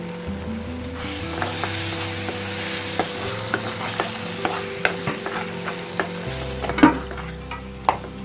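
Tomatoes sautéing in a pan for a pepper chicken gravy, a steady close sizzle punctuated by regular scrapes and knocks of a spoon stirring against the pan, over a low hum, no talk.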